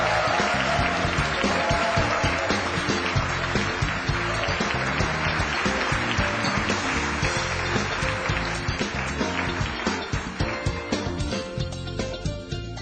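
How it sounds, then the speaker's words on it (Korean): Loud, enthusiastic applause from a lecture hall audience welcoming a speaker to an EBS special lecture, dense continuous clapping that runs the full length and thins slightly toward the end, with some music-like tones underneath. "안철수 의장님을 뜨거운 박수로 환영해 주십시오."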